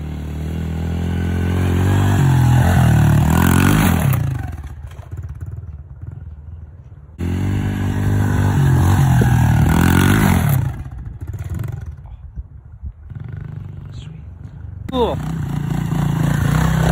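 A pit bike engine at a freestyle ramp revs hard in two loud bursts, roaring up and dropping off between them, with voices and clatter around it.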